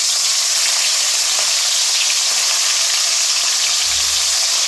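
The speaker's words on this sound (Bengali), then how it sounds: "এখন বাকি মাছগুলো আমি একইভাবে তেলে দিয়ে দেবো" Fish frying in hot oil for a Bengali fish curry, a steady loud crackling sizzle that stays even and close with no talk over it.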